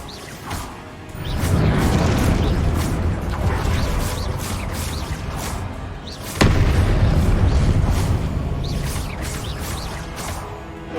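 The Expelliarmus spell is cast in Hogwarts Legacy with heavy, booming magical blasts and whooshing bursts that roll on for several seconds. A sharp crack lands midway, followed by another surge of rumbling impacts.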